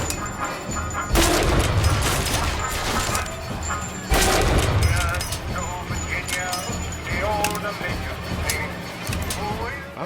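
Sniper rifle shots in BioShock Infinite: two sharp, loud reports spaced a few seconds apart, ringing over busy game combat noise, with someone talking throughout.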